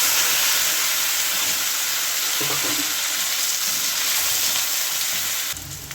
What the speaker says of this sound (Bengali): এবার আলুগুলি দিয়ে কষিয়ে নিই